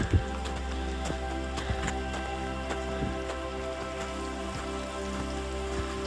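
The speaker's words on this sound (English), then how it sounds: "The rain has changed to sleet, I think, which is good." Sleet pattering steadily on a winter hike up Mount Moosilauke, with a dense, even ticking of frozen drops and a few sharper taps close by, alongside a constant low hum and no speech.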